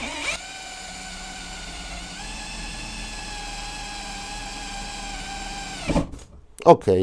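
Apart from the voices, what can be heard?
Parkside cordless hammer drill drilling a hole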